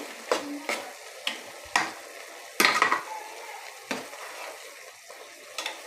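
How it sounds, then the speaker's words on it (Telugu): A spoon scrapes and knocks against a pot of mushroom gravy in irregular strokes as curry leaves are mixed in, several distinct clacks over a soft background simmer, no voices. "కర్రీ లీవ్స్ వేసుకొని మిక్స్ చేసుకోండి"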